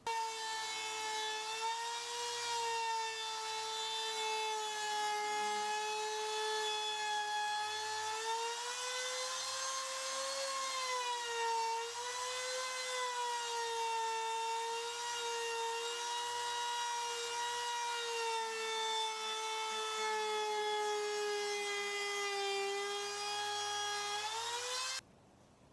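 Katsu trim router cutting into plywood, a loud, steady high-pitched whine whose pitch sags and wavers as the bit bogs down under load, running continuously before cutting off abruptly.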